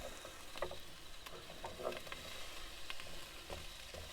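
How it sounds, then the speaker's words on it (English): Onion and carrot frying in a pan at a campsite, a soft continuous sizzle with scattered crackles and occasional stirring scrapes, fairly quiet and close. "Just want to lightly fry it off a little bit."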